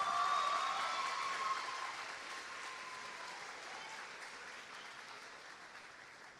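Audience applause at a 2023 high school graduation ceremony at Riverside Academy West, a dense wash of clapping that starts fullest and slowly eases to a softer, steady patter.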